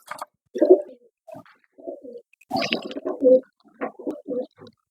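A pigeon coos close by in several low, throaty bursts separated by short pauses.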